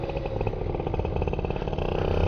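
A brand-new motorcycle engine is warming up, giving a continuous, close, throbbing idle with a steady rhythmic pulse that rises slightly in loudness toward the end.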